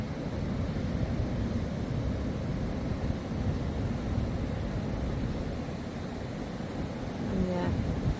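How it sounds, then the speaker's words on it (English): Ocean waves break hard on a beach in a steady, dense roar of surf that fills the whole stretch, with wind buffeting the microphone and no pauses between breakers. "The waves are breaking quite hard today."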